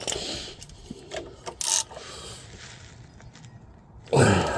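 Ratchet tightening the power steering belt tensioner on a VW T4 van, a few quiet clicking strokes and mechanical taps spread through the clip, ending with a louder rustling burst.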